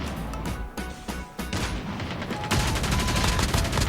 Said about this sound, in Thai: เสียงสไนเปอร์